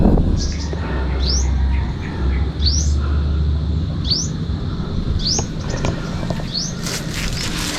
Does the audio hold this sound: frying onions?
no